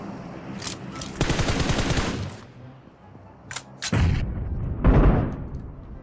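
Shotgun fire in the mobile battle-royale game PUBG Mobile, several loud close bursts of blasts spaced across the moment, with short gaps of quieter game ambience between them.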